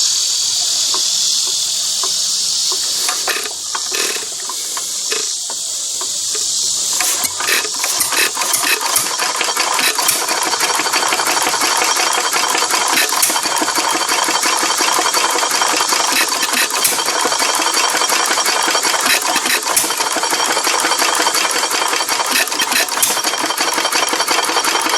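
A 1918 Fairbanks Morse Z 1 1/2 hp hit-and-miss engine starting up, a bright hissing buzz giving way to a dense stream of rapid mechanical clatter and ticks, loud and close.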